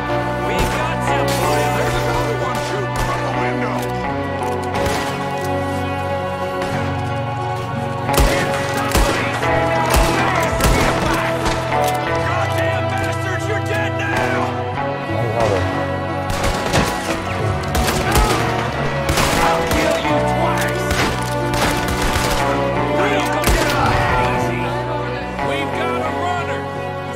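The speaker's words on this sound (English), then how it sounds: "There's another one shooting from the window." A chaotic shootout in Red Dead Redemption 2, with repeated loud gunshots cracking over tense orchestral music for an extended stretch, bursts clustering irregularly with an occasional heavier boom.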